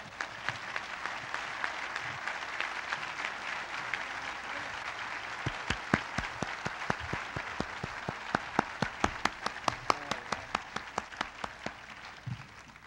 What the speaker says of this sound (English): give him a big, juicy round of applause